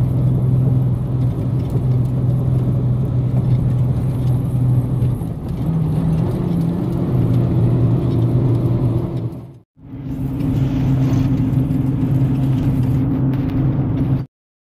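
A Nissan diesel vehicle's engine runs steadily while driving at around 1100 RPM, a continuous close low rumble and drone with one brief dropout before resuming, then cutting off at the end.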